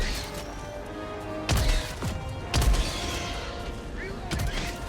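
Gunfire and explosions from the video game Helldivers 2 while fighting bugs, with three heavy bursts hitting roughly a second apart over a steady background of game noise and rumble.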